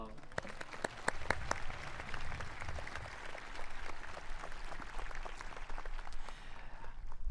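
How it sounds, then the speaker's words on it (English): Crowd applause fills a graduation ceremony for a senior class, a steady wash of clapping with a few sharper individual claps standing out early, holding at an even level throughout. "Please give everyone a round of applause."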